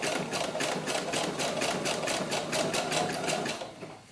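A sewing machine stitches a small doll glove, running in a steady rapid rhythm of needle strokes for about three and a half seconds before slowing and stopping, close and clear with no talking.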